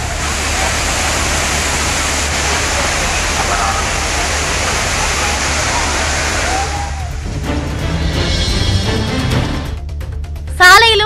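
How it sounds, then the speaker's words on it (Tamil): Roaring water pours down Thirparappu waterfall after rain, a loud, steady broadband rush filling the first seven seconds, then giving way to mixed clatter and brief tonal sounds near the end. "மழை ஓய்ந்த பிறகும் திருப்பரப்பு அருவியில் தண்ணீர் ஆர்ப்பரித்து கொட்டுகிறது"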